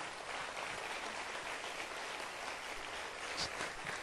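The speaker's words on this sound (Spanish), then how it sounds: "Démosle un aplauso a Jesús, que es la verdad." A church congregation at a Pentecostal service claps together in steady, dense applause lasting several seconds, filling the room evenly at moderate volume with no speech over it.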